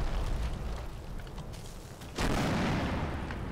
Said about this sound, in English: there's a few more mortars. That's from the 60mm landing around here